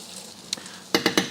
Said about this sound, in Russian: Чуть-чуть потушится, так сказать, в сковородке вместе с луком.